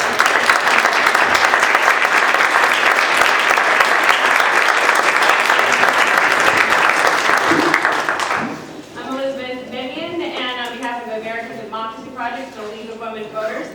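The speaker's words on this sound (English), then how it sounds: "I will want a big round of applause for the candidates." An audience at a school board candidates forum applauds loudly and densely for about eight seconds, then the clapping stops abruptly and a person begins talking.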